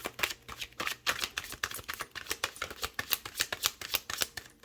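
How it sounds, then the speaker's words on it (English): Tarot cards being shuffled close up, a run of quick riffling bursts with brief pauses, crisp and fairly quiet, no talking. "we're just going to start shuffling here"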